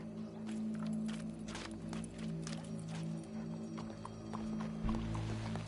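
Horse hooves clip-clopping at a walk in Red Dead Redemption 2, a steady series of close, crisp hoof knocks with a soft snort, over a low background hum and no talk.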